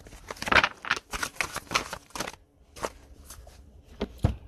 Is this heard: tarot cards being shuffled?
yes